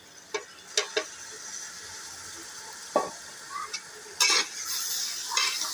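Chopped tomatoes dropped into hot oil with chili for bhindi masala, giving a soft sizzle under sharp scraping stirs and metal clinks of a spoon against the pan, with no talk.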